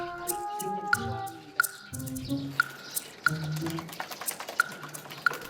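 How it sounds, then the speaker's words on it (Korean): Pet parrot calling inside a house in an alley neighbourhood. Bright, sharp chirps ring out at a steady pace over a busy, clattering indoor background, with lower warbling tones mixed in. "딸보다 더한 깜찍한 애교로 아저씨 사랑을 독차지하고 있다는 앵무새"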